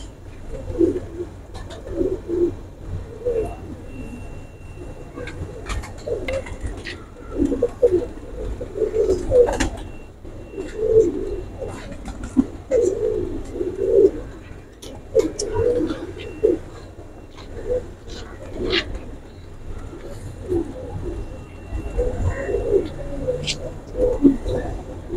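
Large golden pigeons coo in low, throaty, repeating phrases close by, with someone talking over them throughout.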